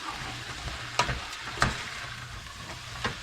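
Vegetables fry in a pan with dried herbs stirred in for an old-fashioned baked spaghetti, giving a steady close sizzle broken by a few sharp spoon-and-pan stirring scrapes.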